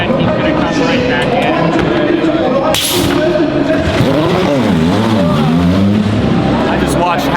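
An Aston Martin Valkyrie hypercar, muffled, races down the straight at the 24 Hours of Le Mans, a loud continuous engine roar rising and falling in pitch as it passes, with a sharp burst midway and crowd noise throughout.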